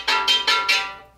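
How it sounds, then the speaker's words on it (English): A violin played sul ponticello, bowed close to the bridge, produces four short choppy strokes in quick succession with a glassy, hissy, bright edge, heard alone and fairly loud. "a specific technique called sul ponticello, which means to play on the bridge"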